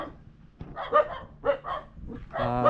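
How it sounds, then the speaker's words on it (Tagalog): A dog barks a few times in short bursts, fairly close, with some background noise between the barks. "So yun, yung aso"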